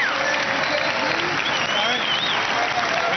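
A large crowd of about 14,000 people applauds and cheers at a horse racing victory parade, a dense, steady roar of clapping and shouting that fills the whole stretch with no break.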